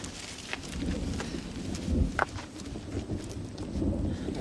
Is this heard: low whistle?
no